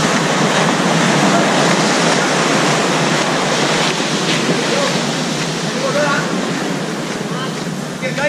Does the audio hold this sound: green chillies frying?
no